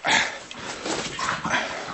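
Dogs fight indoors with a noisy scuffle of growls, yelps and barks that runs on without pause.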